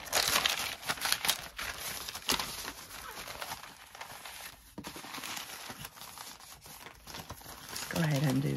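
Watercolor paper for a junk journal is handled close up, crinkling and rustling in uneven bursts throughout, with someone talking over part of it.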